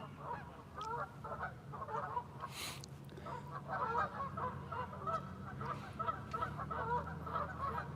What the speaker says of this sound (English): And geese are pretty noisy.